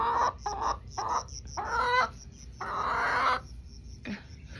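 Cinnamon Queen hens cluck in short repeated bursts at close range, soft, busy chatter with a few brief pauses and no voices over it.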